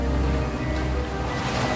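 Cold ocean surf breaking on the Oregon coast on a late October afternoon, a steady, loud wash of waves with low rumble and wind noise throughout.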